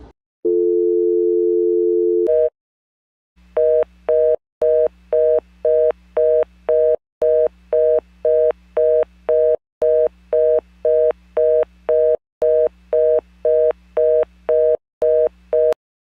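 A landline telephone gives a brief steady tone, then a fast busy reorder signal: a rapid on-off beeping that repeats evenly and loudly with nothing else behind it.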